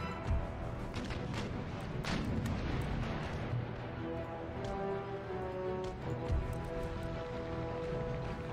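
Cannon round shot booms from sailing warships in Empire: Total War, a dense rumbling barrage of distant and near artillery fire, with repeated muffled blasts layered over continuous battle noise.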